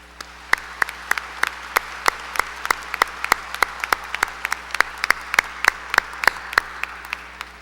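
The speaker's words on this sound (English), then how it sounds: "Please join me in a round of applause." Applause at a high school graduation ceremony comes as sparse, sharp, separate claps, fairly close and steady, over a quiet room hum.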